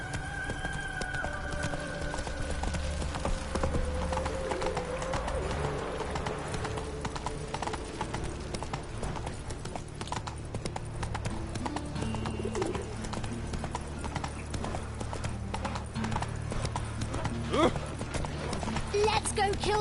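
Roach the horse galloping in The Witcher 3, with rapid rhythmic hoofbeats running steadily throughout alongside ambient bird coos and background game sound.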